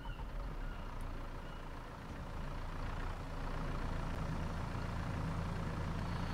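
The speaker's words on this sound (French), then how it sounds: "Ah, oh, y'a un petit tracteur." Steady low engine rumble of a small tractor in the Farming Simulator 22 video game, a continuous near drone holding even throughout, with no talk over it.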